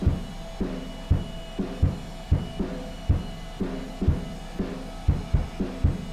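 A drum recording run through the Airwindows Slew plugin plays a steady kick-and-snare groove with a softened, slightly dulled top end. Hits land at a regular tempo, with punchy lows and ringing mids.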